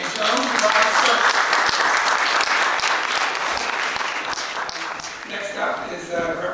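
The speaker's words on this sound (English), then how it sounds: "Let's give a round of applause to Jermaine Jones" An audience at a Baltimore primary election candidates forum applauds, a dense, sustained round of clapping that slowly fades, with voices murmuring underneath.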